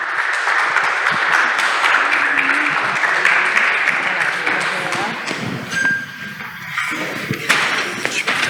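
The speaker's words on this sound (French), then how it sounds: "Sous vos applaudissements" Applause from an audience at a live journalism event fills the room loudly for several seconds, a dense clatter of hands that thins toward the end while voices start to come through.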